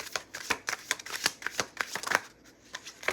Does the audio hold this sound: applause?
no